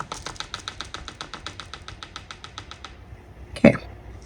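A chocolate-dipped coconut ball tapped repeatedly against the rim of a bowl of melted milk chocolate, a quick, even run of light close taps for about three seconds, then a sharper knock, with no talking.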